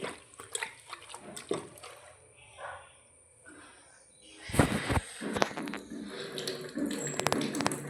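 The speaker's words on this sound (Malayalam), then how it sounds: "കുറച്ച് വെള്ളം ഒഴിക്കുക." Water poured into a pressure cooker holding squid, with a short splashy pour after quiet moments and some handling clatter, near and moderately loud.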